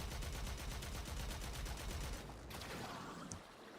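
Rapid automatic gunfire in the video game Warframe crackles in a steady fast stream for about two seconds, then stops, leaving a quieter whoosh and a small metallic blip.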